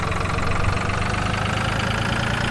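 A tractor engine idles steadily in a farming video game, a continuous low rumble with a fast, even chugging pulse that holds at a constant loudness throughout, with no talk over it.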